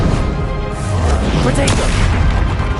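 Bombarda explosion spell cast in Hogwarts Legacy, a dense rumbling boom with a sharper burst partway through, set against a steady wash of game noise and a voice.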